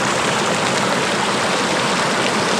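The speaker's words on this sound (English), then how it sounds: "This is Cottonwood Creek." Cottonwood Creek in the High Sierra rushes steadily over rocks, a close, continuous broadband wash of flowing water with no voices.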